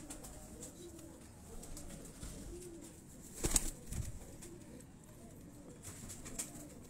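Pigeons on a rooftop in Lahore coo softly in low, throaty repeated calls, with a brief flutter of wings midway, all fairly faint against quiet background.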